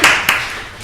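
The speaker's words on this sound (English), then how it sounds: "A round of applause from the women." A women's audience at a talk on gender in the contemporary art world gives a short, close burst of clapping with two quick surges.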